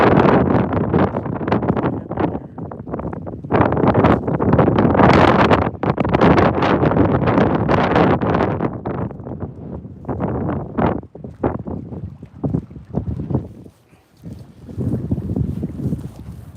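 Strong, gusty wind roars across the microphone on an outdoor morning walk, loud sustained buffeting that swells and drops in waves, easing briefly near the end before picking up again.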